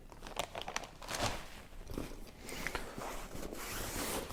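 Tent groundsheet being stuffed into a separate plastic bag, with close, busy crinkling and rustling of plastic in irregular bursts that continue throughout, with no talk.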